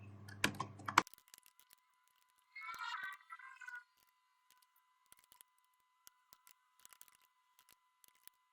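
Typing on a computer keyboard while entering employee data into a payroll program: soft, sparse key clicks in scattered bursts over a quiet background, with a short louder rustle early on.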